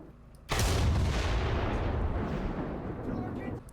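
Massive 203mm tank gun firing in the War Thunder video game: one sudden, loud, deep blast that cuts in sharply and then rolls on in a long, heavy rumbling decay, with no talking over it.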